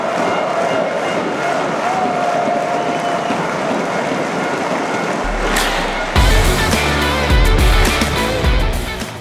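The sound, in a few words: crowd applause and cheering for Luka Dončić at basketball match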